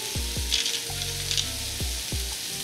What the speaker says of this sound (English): our beef patties are searing and releasing their fat and their juice